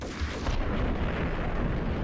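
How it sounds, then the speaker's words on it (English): A grenade explosion in the Max Payne game, a loud, dense roaring blast that carries on as a rumbling wash of noise for about two seconds. "Did I just move closer to the explosion?"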